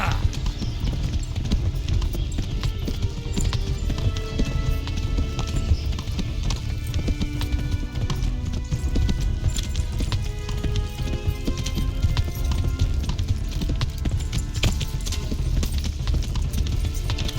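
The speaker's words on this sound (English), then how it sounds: "A very impressive ride, Henry. Truly. And on a horse from Neuhoff." Steady clip-clop of a horse galloping hard during a race in the medieval video game Kingdom Come Deliverance, continuous and close, with a faint neigh and crowd noise beneath.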